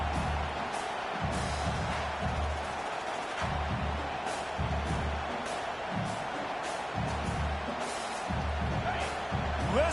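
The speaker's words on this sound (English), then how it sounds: "Listen to this crowd just shaking the girders of this place, trying to help their defense." A stadium crowd roars in the NCAA 25 college football video game during a Texas A&M versus LSU matchup. The dense, continuous roar stays at a steady level, with dull thumps pulsing underneath.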